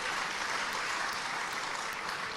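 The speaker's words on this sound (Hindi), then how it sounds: "थोड़ी तालियां बढ़ा दीजिए" Steady applause from an audience of people gathered for an Independence Day poetry recital, a dense continuous patter of clapping without breaks.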